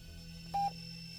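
A single short telephone keypad tone from dialing sounds faintly over a quiet steady background hum.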